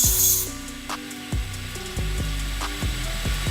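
A knife edge being finished on a very fine belt of a belt grinder, a steady abrasive hiss with repeated light passes and short clanking contacts, close and moderately loud, without talk.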